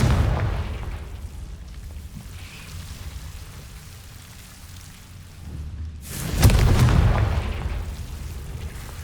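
A Confringo blasting curse explodes in the Hogwarts Legacy video game, a sudden loud broadband blast about two-thirds through that follows a quieter stretch of ambient rumble, with no talking.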